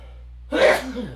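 A single sharp sneeze, close and fairly loud, after a moment of quiet background hum.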